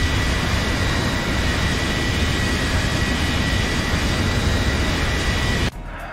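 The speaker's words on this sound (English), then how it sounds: "So we took off, guys." A Boeing 737 jet taking off in X-Plane 11, a loud, continuous engine roar that holds steady and then cuts sharply to a quieter level near the end.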